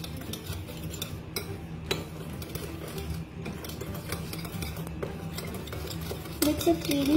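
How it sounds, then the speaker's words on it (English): Powdered sugar and milk glaze is stirred in a bowl, with repeated scraping and light clinking of a utensil against the bowl, close and steady with no talking. "Mix it really well."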